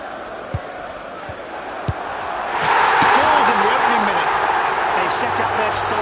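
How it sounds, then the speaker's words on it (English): Crowd roar from a stadium in the UFL football video game swells about halfway through and holds steady, with a few sharp thumps early on and commentary talking over it. "Listen to that crowd."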